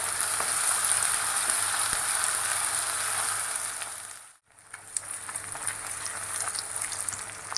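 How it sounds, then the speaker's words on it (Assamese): Ginger-garlic paste and spices fry in hot oil for a pork gravy, a steady close sizzle with light crackles that briefly dips almost silent midway before resuming. "আদা নহৰু কেঁচা ভাৱটো যোৱালৈকে ভালদৰে এইটোকো ভাজি ল'ম"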